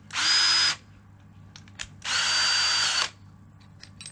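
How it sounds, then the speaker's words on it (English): A power drill bores pilot holes in the wooden front panel of a nest box, two loud high-pitched whirring bursts of under a second each with short gaps and faint workshop clatter in between. "some pilot holes in the front hole, so I can get the jigsaw round."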